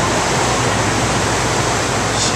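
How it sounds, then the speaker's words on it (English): Fast-flowing brackish water of the River Thames rushes in a steady, loud broadband roar, continuous and close, with no voices over it. "It's very fast flowing water."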